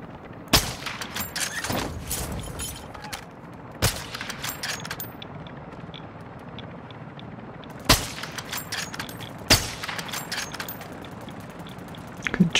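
Gunfire in a video game: several loud, sharp shots and short bursts at irregular intervals, with a steady rumbling background between them and no speech.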